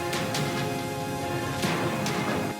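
Layered orchestral parts of French horn, tremolo violin and a low tuba-like brass section sound together as one dense sustained chord, with a few sharp accents, loud and upfront, with no talk.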